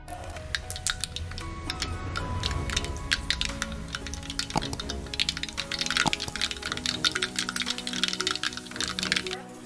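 Mustard seeds spluttering and popping in hot coconut oil in a pan, a dense stream of sharp crackles and pops with louder irregular snaps throughout, close and steady with no talk.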